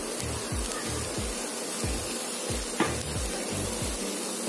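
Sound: vegetables sautéing with onions in a pan

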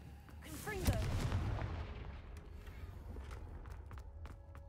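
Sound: Confringo blasting spell explosions, video game Hogwarts Legacy

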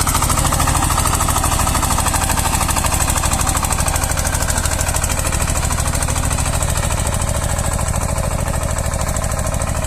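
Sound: tractor with rotary tiller working soil

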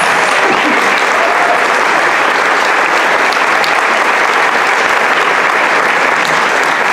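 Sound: audience applause for the choir director

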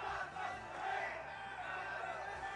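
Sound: tournament crowd cheering

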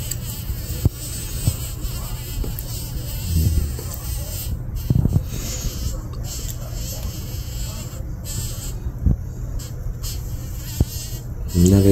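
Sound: bee buzzing while caught by black widow spiders

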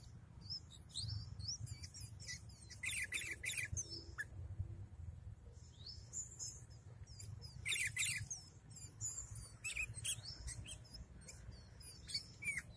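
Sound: sooty-headed bulbul (kutilang) singing

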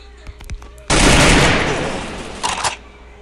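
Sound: gunshot in a video game

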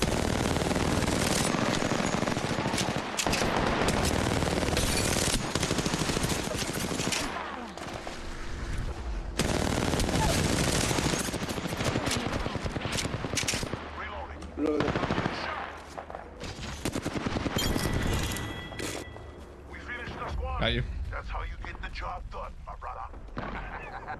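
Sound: gunfire in a shooter video game

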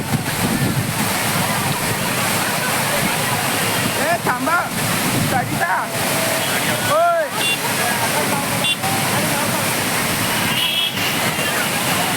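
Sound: waterfall

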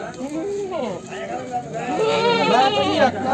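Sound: Barbari goat bleating at a goat market

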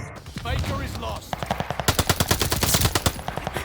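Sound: MP40 submachine gun firing in a video game

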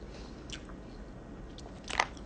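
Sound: biting into a waxy pickle

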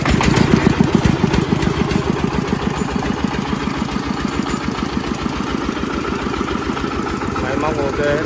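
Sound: công nông tractor diesel engine idling, 33JD engine

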